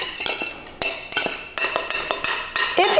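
A spoon clinks and scrapes against a bowl in quick, irregular strokes as flour is worked by hand into cookies-and-cream bar dough, with no talking.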